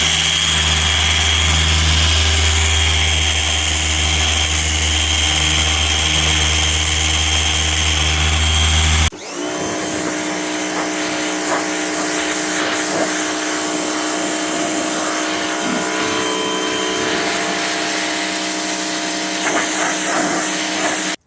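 A machine polisher works Pro XL Extreme Cut Compound into car paintwork, giving a steady loud motor whine that shifts pitch partway through as the pad loads up, running continuously without talk.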